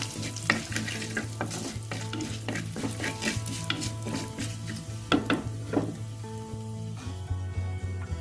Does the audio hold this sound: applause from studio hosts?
no